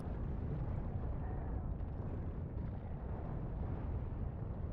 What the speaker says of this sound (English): Sound of a lot of artillery guns firing right there.